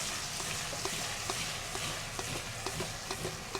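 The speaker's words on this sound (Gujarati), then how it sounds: "તેલમાં આ રીતે ફ્રાય કરવાનું" Flour frying in oil in a pan for chili preparation, a soft steady sizzle with regular light clicks of stirring, fairly faint and close, no talk.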